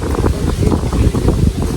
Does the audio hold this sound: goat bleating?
no